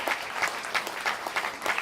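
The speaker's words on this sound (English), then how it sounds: "Please give them all a round of applause" An audience at a live comedy roast applauds the panel, a dense, steady burst of clapping from a room full of people.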